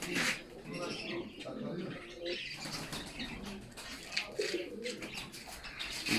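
Pigeons coo and flutter inside a loft of chick coops packed with young birds and eggs, a steady busy chorus of soft calls and wingbeats with someone talking over it.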